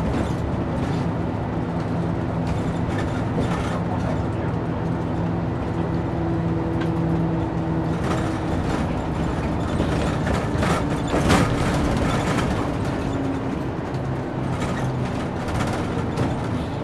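A crowded Hakodate mountain bus descends from the summit toward the trailhead, its steady engine drone and interior rumble continuous and fairly loud throughout, with muffled passenger murmur underneath.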